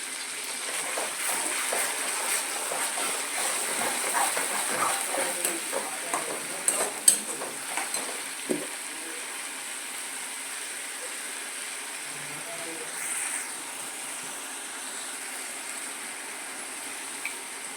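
Tomato puree poured into softened onions frying in a pan and stirred, a soft sizzle with scraping spoon strokes and small splattery clicks early on, fading to a quiet hiss.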